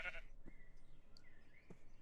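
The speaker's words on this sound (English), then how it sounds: "I heard a sheep" Sheep bleating in the Minecraft video game, two short bleats about a second apart, moderately loud over a quiet background hum with no talking.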